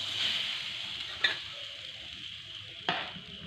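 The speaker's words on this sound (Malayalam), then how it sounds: "ഞാൻ കറിയിലേക്ക് കടുക് പൊട്ടിച്ചത് ഒഴിച്ച് കൊടുത്തിട്ടുണ്ട്" Mustard seeds tempered in hot oil are poured into a Kerala-style snake gourd curry, raising a soft, hissing sizzle broken by two brief metallic clinks.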